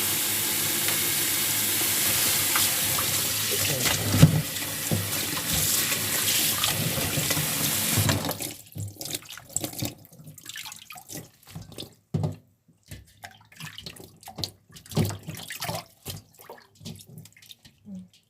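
Salted napa cabbage being rinsed under a running tap: a steady broadband rush of water fills the first eight seconds, then gives way to intermittent drips, splashes and handling noises close by.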